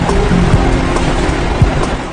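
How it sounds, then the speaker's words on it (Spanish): Water of the Neuse River at New Bern, North Carolina, a steady broadband wash with soft lapping surges, as of small waves or current against a hull, lasting a couple of seconds with no voices. "Este es el río Neuse, en New Bern, Carolina del Norte"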